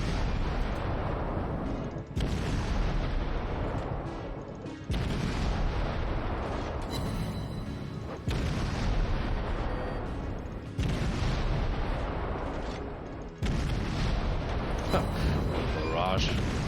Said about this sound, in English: Barrage of shells.